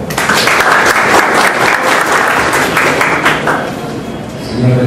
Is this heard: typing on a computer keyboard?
no